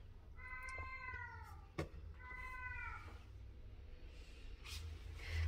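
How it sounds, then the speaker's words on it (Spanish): An angry indoor cat meows loudly to be let outside, two long drawn-out yowls with a sharp knock between them and faint household noise after. "mi gato está enojado porque no lo dejo salir"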